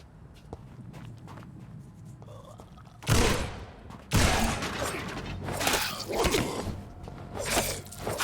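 Gunfire from a firearm in the vampire action game Vampyr, with two sharp loud shots about a second apart followed by a burst of rapid combat noise and scuffling over low background ambience.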